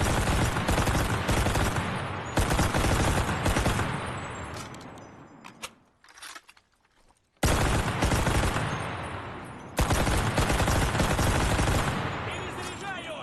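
Rapid bursts of Russian submachine gun fire in the game Enlisted, loud and close, in several long sustained strings with a short near-silent pause in the middle.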